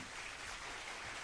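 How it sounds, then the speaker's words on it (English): A short burst of recorded applause plays at the close of a news segment on the Jazz Cabbage Cafe radio show, a steady, faint, hissy wash of clapping with no voices over it. "I love the applause at the end"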